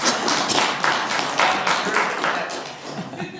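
People at a Port Huron city council meeting clap in a steady, moderately loud burst of applause that carries on evenly, then thins slightly toward the end.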